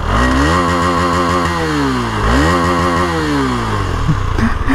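A KTM Duke 250 motorcycle engine revs hard and loud up to its rev limiter, climbing and bouncing twice in a row, close by with no talk.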